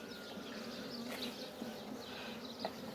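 Honeybees hum steadily around an opened hive during brood frame work, a soft continuous buzz with brief louder passes of individual bees close by.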